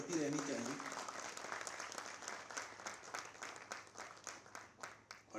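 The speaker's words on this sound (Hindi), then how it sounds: "तालियां आप सबकी तरफ से होती रहनी चाहिए।" Applause from the audience at a Haryana government environment plan launch, a fairly distant, moderate wash of clapping with a voice over the public address speaking at the start.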